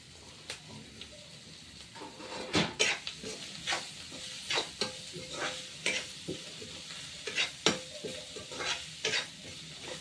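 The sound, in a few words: spices sizzling in tempering for vegetable curry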